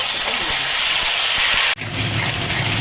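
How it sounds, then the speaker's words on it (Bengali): Chopped tomato and green chillies frying in hot oil for dhaba-style pindi chole, giving a steady broadband sizzle throughout with a brief dip midway before the hiss resumes, no voices present. "টমেটোটা আমি একটু ভাজা ভাজা করে নিচ্ছি তেলের সঙ্গে"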